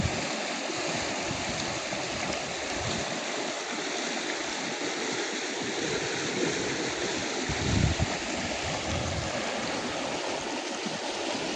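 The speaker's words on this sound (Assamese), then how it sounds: "ইয়াত আছে নদীৰ কাৰেণ্টটো চাওক, কিমান কাৰেণ্ট বলি আছে চাওক" The Singra river near a tea garden flows with a strong current, giving a steady, dense rushing and gurgling of water that carries on without a break, with no talk over it.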